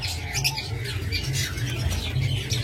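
Diamond doves squawk and chirp in a cage, a dense run of short, close calls over a steady low hum.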